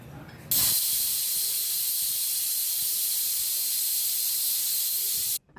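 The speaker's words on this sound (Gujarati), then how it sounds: "હવે કુકર બંધ કરી દઈશું અને 3 થી 4 વિસલ વાગે ત્યાં સુધી આપણે એને ચડવા દઈશું." A pressure cooker vents a steady, loud steam hiss while cooking bottle gourd and chana dal, the hiss starting abruptly and cutting off just before the end.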